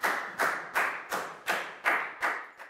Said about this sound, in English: Give yourselves all a big round of applause.